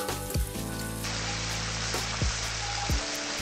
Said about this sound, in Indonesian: masak bersama dengan bumbu kurang lebih 5 menit sampai bumbu surut